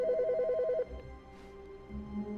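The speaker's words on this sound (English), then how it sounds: "Phone's ringing." Telephone in The Stanley Parable gives a quick, trilling electronic ring that repeats rapidly, then breaks off, leaving quiet room tone and a faint low tone.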